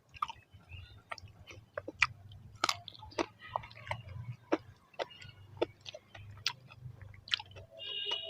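Close, repeated chewing and crunching while eating a plate of rohu fish curry with dal and cauliflower-potato posto, irregular bites and mouth sounds over a low background hum, no talking.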